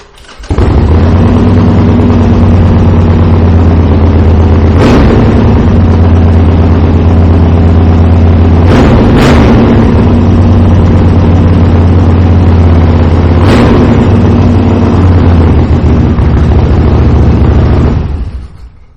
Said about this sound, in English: fire this bike up right now so you can hear that Vance and Hines exhaust.